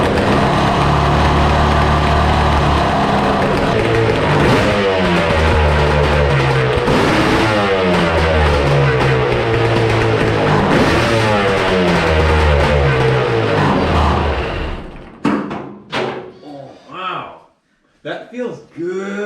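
Mini jet boat engine on a classic 1200R running loudly with open pipes, a rough steady idle rising and falling through several revs before cutting off, with people talking over it.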